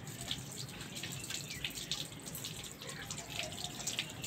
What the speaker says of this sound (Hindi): मैं हाथ धो लूंगा